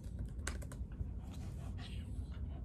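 Rapid clicks of typing on a Mac computer keyboard while entering a command in Terminal, a quick burst of keystrokes close to the microphone over faint background hum.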